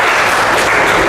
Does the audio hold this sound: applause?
yes